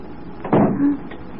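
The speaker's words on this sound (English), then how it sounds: "The door. It's closed behind us." A door shuts in a 1935 radio drama: a single muffled thud with a brief creaking scrape after it, heard against a faint room hiss with no voices.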